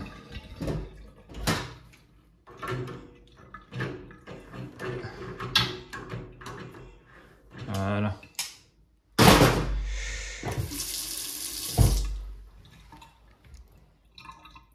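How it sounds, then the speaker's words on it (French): Hot water running from a tap at a water heater, where a torn diaphragm in the water valve caused a leak; a steady close rush of flow with drips and clanks around it. "Là, il y a de l'eau chaude. Bah, l'eau chaude, l'eau coule."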